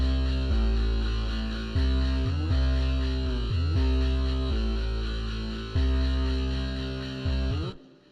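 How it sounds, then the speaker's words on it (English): Bass and keyboard play a slow, heavy sequence of sustained notes through reverb and delay effects, changing every second or so before cutting off near the end, with no voices. "So with the bass and the keyboard, it sounds like this."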